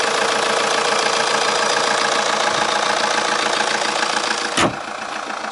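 A Vauxhall Insignia 2.0 Country Tourer's engine idles loudly and steadily close by in an open engine bay, then cuts off abruptly near the end, leaving a quieter hum.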